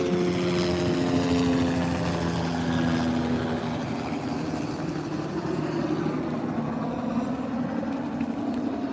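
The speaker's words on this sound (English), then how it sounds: "Let this helicopter clear over me." Helicopter flying overhead near Keaton Beach, Florida, a loud continuous rotor and engine drone with a tonal whine that fades and shifts as it passes, filling the whole stretch with no talk.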